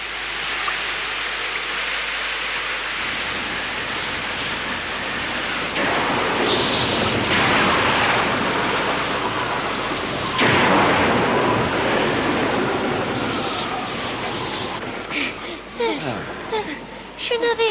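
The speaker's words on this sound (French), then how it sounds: "Oups, ça y est, il pleut." Heavy cartoon rain pours down during a thunderstorm on a Moomin island, a dense, steady hiss of rainfall that swells in loud surges, with brief crackling bursts near the end.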